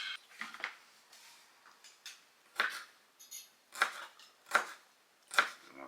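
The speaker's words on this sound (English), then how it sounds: "Now we're going to chop up the garlic." Knife chopping garlic on a board, a handful of separate crisp cuts spaced about a second apart, close and fairly quiet, with some light kitchen handling noises between them.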